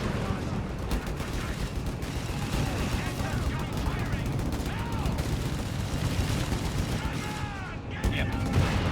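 An aircraft strafing run in Company of Heroes 3 brings dense, continuous rattling gunfire and explosions. Battle noise fills the whole stretch, with someone talking over it.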